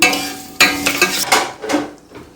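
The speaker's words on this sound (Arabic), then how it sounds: "حمرنا الشعرية اهو" Vermicelli frying in hot ghee for Egyptian vermicelli rice, stirred in a pot with a string of close, sharp scraping and sizzling bursts, loud and busy, with no one talking.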